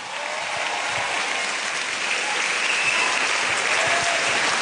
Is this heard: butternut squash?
no